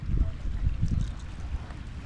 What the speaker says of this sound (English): I hear the boat noise.